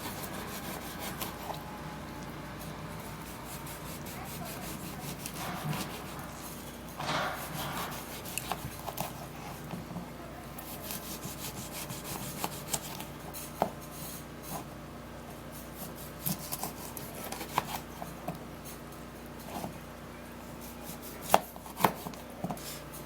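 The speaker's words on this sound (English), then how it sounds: "Be cutting the lemon" A knife cuts through a whole lemon on a board, making scattered soft chops and scrapes with a few sharper knocks near the end, fairly quiet and close, with no talking.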